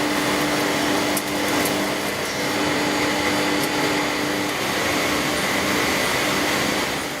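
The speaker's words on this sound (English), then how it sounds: "We continue our tour of different production facilities to see a machine that produces step drills." A factory machine that produces step drills, grinding them with cubic boron nitride, gives off a steady, loud broadband whir with a constant hum and occasional brief high ticks, running continuously with no talk.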